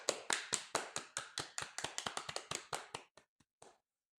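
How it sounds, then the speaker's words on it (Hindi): Hands clap in a quick steady rhythm, about twenty crisp claps close by that thin out and stop near the end, with no talk over them. "सब लोग तालियां बजाएं।"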